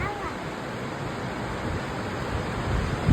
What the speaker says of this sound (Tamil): எப்படி காத்தடிக்குது பாரு